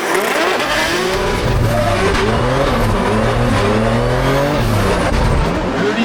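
A drift race car sits at the start line with its engine roaring and tires squealing, the sound loud, continuous and close, with the revs rising and falling throughout.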